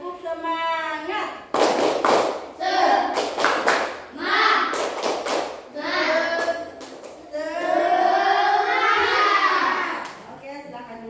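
Students in an Indonesian classroom clap out a rhythmic chant pattern, with bursts of sharp group claps mixed with their chanting voices close by.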